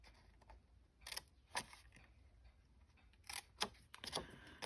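Scissors snipping paper bits off a craft project, a few quiet, sharp cuts spaced out with short pauses between, close up in a quiet room.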